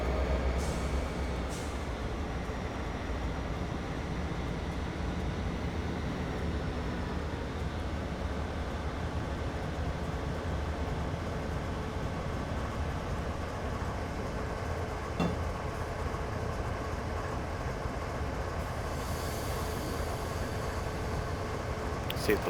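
A locomotive reverses slowly in the Train Simulator 2013 game on the Granite to Wycon route, a continuous low rumbling drone of engine and rolling wagons with faint clanks and a brief air hiss near the end.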